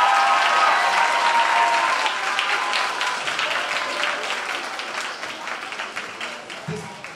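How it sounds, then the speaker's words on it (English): An audience applauds Kennedy students at a high school symphony orchestra concert, a dense, steady wash of clapping that is loud at first and slowly thins and fades over several seconds. "Let's have a round of applause for Kennedy students"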